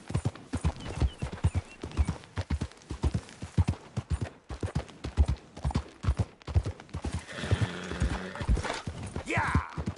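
Hooves clip-clop in a fast, steady galloping rhythm as a horse runs in the Red Dead Redemption 2 video game, close and prominent, with brief voices and other game sounds near the end.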